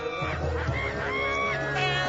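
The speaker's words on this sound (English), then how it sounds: "Those ducks are quacking their heads off." Cartoon ducks honk and quack in a frantic, overlapping chorus, nasal calls rising and falling over a busy animated soundtrack with no pause.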